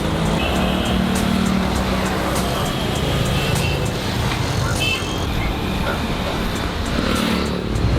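Car interior during a ride through Chennai traffic: loud continuous road and engine rumble with passing vehicles and horn-like tones, voices mixed in.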